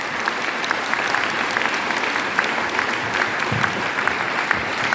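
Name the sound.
audience applause after a conference talk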